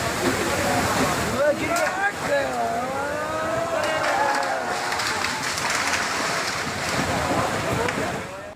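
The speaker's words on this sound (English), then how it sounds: "Look at those waves." Heavy ocean surf from storm-driven waves at Cabo San Lucas roars continuously with strong wind buffeting the microphone, while voices shout indistinctly over the crashing water.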